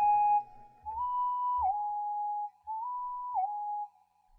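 A whistle synth lead programmed in FL Studio for an R&B beat plays a clean, pure whistling melody, two repeated phrases that step up and slide back down, loud and alone.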